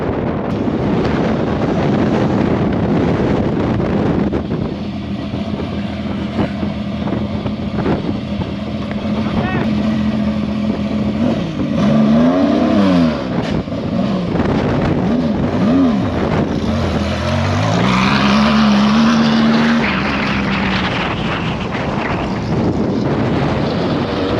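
Engines rumble and rise in pitch as vehicles roll in close over dusty desert ground, with heavy wind buffeting the microphone throughout and voices talking over it.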